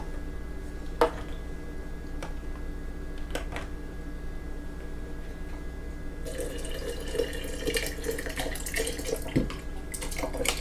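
Hot water runs from a tap into a measuring cup holding lotion, a quiet steady trickle with a few drips and clinks, growing fuller and brighter partway through.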